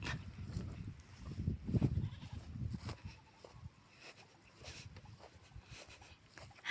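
Goats out in the open, a few bleats mixed with rustling and shuffling, moderately loud at first and then quieter and more distant, no speech.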